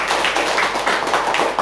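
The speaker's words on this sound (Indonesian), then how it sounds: "Berikan tepuk tangan buat Tuhan." A church congregation claps during a worship service, a dense, continuous burst of many hands applauding close by, with no break in the rhythm.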